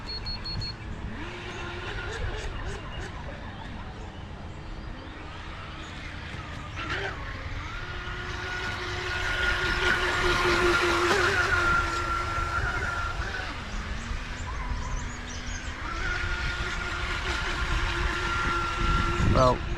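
Homemade RC jet boat with a ride plate running on water, its small motor whining steadily and shifting in pitch as it speeds up and slows, moderately distant, with a person talking over it.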